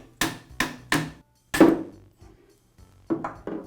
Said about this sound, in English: I'll use a socket and hammer to remove it.